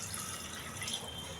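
Water pours from a vessel into a pressure cooker holding mutton, making a soft, steady splashing trickle that stays fairly quiet and continuous, with no talking.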